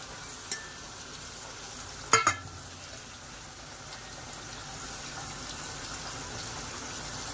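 Onions frying on high flame in a pan for home-style chicken biryani, a low continuous sizzle broken by a couple of sharp clanks of a spoon against the pan.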